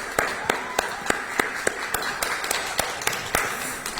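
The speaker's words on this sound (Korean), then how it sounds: "박수 한번 주세요." A small press conference crowd claps at a launch event, with sparse, distinct hand claps landing in a loose, uneven rhythm over a low room murmur.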